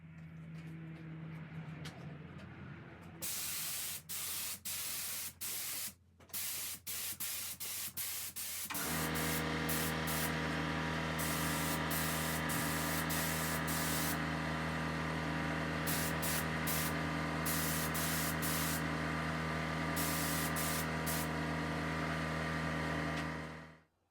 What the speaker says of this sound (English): let's spray it on and see what it looks like